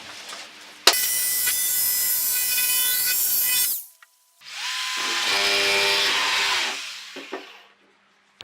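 A power saw cuts a second wooden template for a two-material table in two loud bursts, each a high whining cut through wood, separated by a short pause and ending in quiet.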